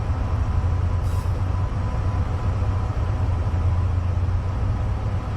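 A freight train runs on the South Wales Coastal route in Train Simulator 2017, giving a steady, loud low rumble and rolling clatter that continues without a break, with no talk over it.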